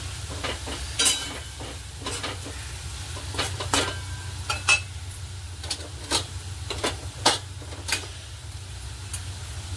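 Potatoes fry crisp in a pan for sabudana khichdi, with a soft continuous sizzle broken by repeated sharp scrapes and taps of a spatula stirring them.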